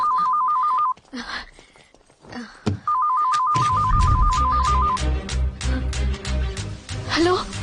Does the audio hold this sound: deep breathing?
no